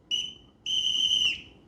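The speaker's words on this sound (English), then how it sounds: "whistle" Two shrill whistle blasts from a Samsung ST50F speaker's DJ booth effects: a short toot followed by a longer sustained one, loud, clear and alone.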